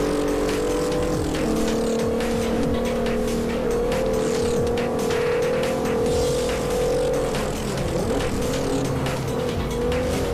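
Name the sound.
car driving and engine in Forza 4 video game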